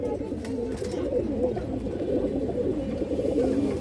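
High-quality pigeons sitting on their eggs on a farm coo in a low, continuous warble, close and fairly loud, with the soft calls overlapping throughout.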